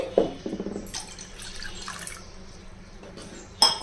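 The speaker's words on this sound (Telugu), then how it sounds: "ఒక పాత్ర తీసుకుని అందులో నీళ్ళు పోసుకోవాలండి" Water splashes and trickles into a pot, with a few drips and clinks, fairly quiet and close.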